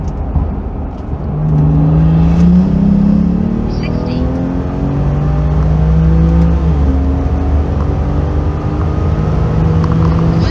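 An upgraded-turbo BMW 340i accelerates hard from 100 to 200 km/h, its engine note climbing steadily in pitch through a gear change, loud and droning from inside the car, with a voice briefly heard at the start.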